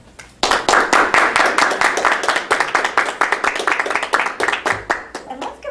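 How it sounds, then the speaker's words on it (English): Members at a Cincinnati TV Toastmasters club meeting burst into loud, close applause after a quiet start, with dense overlapping hand claps that stay steady and vigorous to the end. "let's give a round of applause to our wonderful Toastmaster for today, Gwendolyn"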